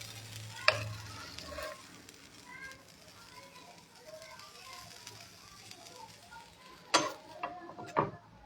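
A vegetable sandwich fries in a pan with a soft steady sizzle close by, broken by a few sharp clatters of a utensil against the pan.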